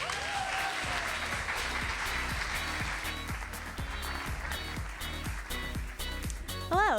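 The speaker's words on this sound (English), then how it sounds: "So please, big round of applause for our first presenter, Ms. Madeline Hoch." Audience at a university digital arts and design graduate showcase breaking into sustained applause for a presenter, dense clapping filling the room with a few louder claps and whoops near the end.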